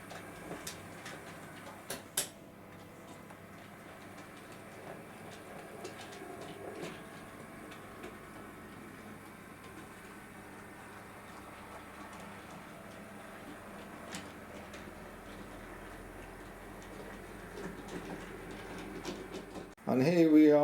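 Model Merchant Navy Class locomotive in Holland Africa Line livery creeping slowly along a siding track in analog mode, giving a soft continuous mechanical whir with faint irregular ticks and clicks, and a louder burst at the very end.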